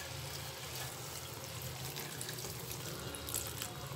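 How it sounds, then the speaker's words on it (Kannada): Water is poured into a simmering tomato gojju in a home kitchen, giving a steady, close splashing pour that runs evenly for a few seconds without a pause. "ನಾನು ಇದಕ್ಕೆ ಸ್ವಲ್ಪ ನೀರು ಹಾಕೋತಾ ಇದ್ದೀನಿ."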